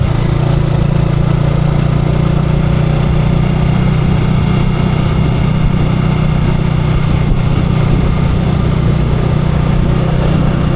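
A motorcycle engine running steadily throughout during break-in, a loud, close, continuous drone with no talking.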